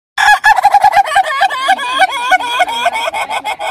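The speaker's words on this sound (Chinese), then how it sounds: "第2天早上，鸡叫了。" A rooster crows repeatedly in the morning, loud and close, with rhythmic clucking and crowing calls running throughout and no talking.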